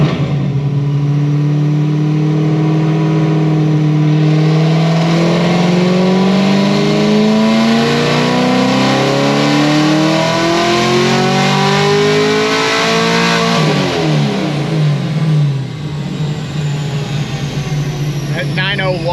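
A procharged ZL1 engine on a dyno, running pump gas with methanol injection, revs in one long, loud pull whose pitch climbs steadily before dropping back as it winds down.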